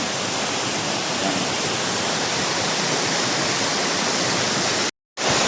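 Heaven Falls in Davao de Oro pours in a loud, dense, unbroken rush of falling water, near and constant, cut by a brief silent gap just before the end.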